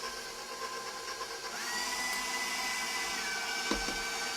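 An electric stand mixer stirring chocolate cake batter with egg yolks, a steady, loud motor whir with a rising whine as the speed shifts, plus a couple of brief knocks near the end, continuous and close.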